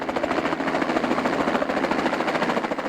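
A helicopter used for catching deer throbs steadily and loudly nearby, its rotor producing a continuous rapid chopping beat with no pauses.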